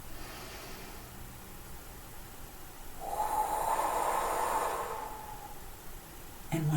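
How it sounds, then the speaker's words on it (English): A single deep breath drawn slowly during a guided relaxation session, a soft airy rush that swells for about two seconds and then fades, close and alone with no voices. "take 3 deep breaths"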